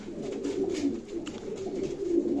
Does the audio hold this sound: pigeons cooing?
yes